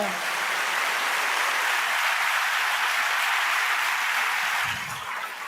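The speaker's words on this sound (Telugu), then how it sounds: "మీరు చప్పట్లు కొట్టాలనిపించట్లేదా" A church congregation claps steadily in sustained applause, dense and fairly loud, tapering slightly near the end.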